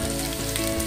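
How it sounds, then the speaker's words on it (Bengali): Vegetables frying in oil give a brief, steady close-up sizzle that holds evenly throughout, with no voices. "তো চলো এই সবজিগুলো একটু ভাজা ভাজা করে নিয়ে তোমাদের কাছে ফিরে আসি।"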